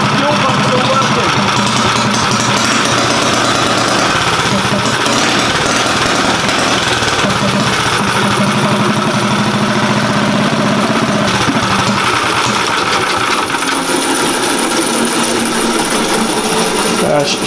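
A vehicle engine runs rough and loud after a fuel pump and fuel system repair, a close, continuous, throbbing idle that stays steady from start to finish.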